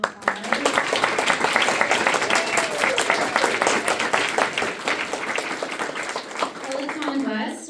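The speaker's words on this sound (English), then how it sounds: "let's give them one more round of applause" Audience applause for student winners of a university creative writing and art contest, a room of hands clapping loudly and continuously with a few voices mixed in, tapering slightly toward the end.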